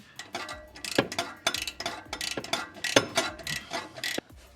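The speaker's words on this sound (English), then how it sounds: "You're going to hear the spring kind of decompress as you turn your wrench there" Close metallic ratcheting and clicking as a wrench turns, with uneven creaks and clunks of a loosening bolt and decompressing spring, while installing an HKS Hi-Power Spec L2 exhaust on a BRZ/GR86.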